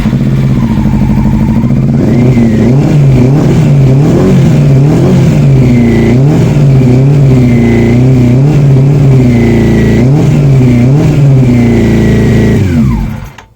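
A Triumph Sprint 900 motorcycle engine runs loud and close, revving up and down repeatedly in rhythmic surges over a rumbling idle before cutting off at the end.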